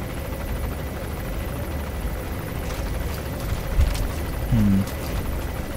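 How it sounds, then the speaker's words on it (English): Helicopter hovering overhead in the video game Metal Gear Solid 5, a steady low rotor drone filling the scene with a brief thump and a short mechanical tone near the end. "Okay, we have a chopper hovering overhead."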